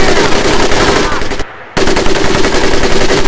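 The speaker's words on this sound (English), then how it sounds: "the M1919A4 30 caliber machine gun" Burst of M1919A4 .30 caliber machine gun fire in the video game Medal of Honor Pacific Assault, loud rapid automatic shots that stop briefly and resume, close and dominant.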